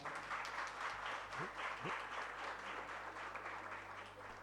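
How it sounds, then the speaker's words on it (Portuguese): Applause from a crowd, steady and moderately distant, lasting a few seconds with no one speaking over it. "elas merecem uma salva de palmas"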